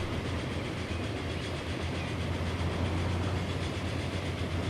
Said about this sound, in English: Pretty cool looking train.